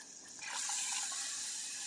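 Water pours steadily into a container, a continuous splashing rush that starts softly and quickly swells, close and fairly quiet.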